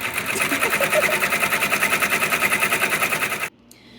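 An embroidery machine stitches out an in-the-hoop eyelet charm, a loud, steady, rapid needle rhythm running nearly continuously before stopping abruptly near the end.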